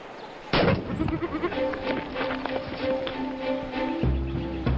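A goat bleats several times in a domestic setting with dramatic background music running underneath, the calls fairly close and moderately loud.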